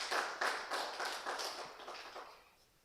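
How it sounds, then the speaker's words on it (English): A small audience at a capacity-building training event claps for a speaker, with a few uneven bursts of hand claps that fade and thin out toward the end. "I think we can continue applauding our speaker for the wonderful and educative words given us."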